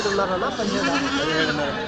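Goats bleating at the Kadiri sheep and goat market, wavering drawn-out cries from nearby animals running through the whole moment, overlapping with people talking and bargaining.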